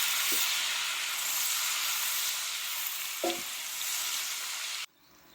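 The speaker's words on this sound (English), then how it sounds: "So add my butter and onions. And we just need to sweat these off." Onions sweat in melted butter in a pan, a steady loud sizzling hiss with a couple of brief stirring knocks, then the sound cuts out abruptly near the end.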